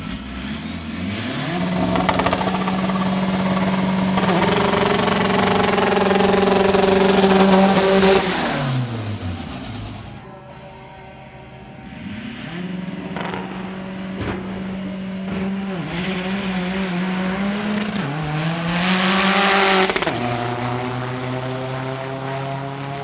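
A front-wheel-drive VW TDI diesel car doing a burnout in the burnout box at the Santa Pod drag strip, loud sustained engine roar held at high revs, dropping off, then rising and revving hard again.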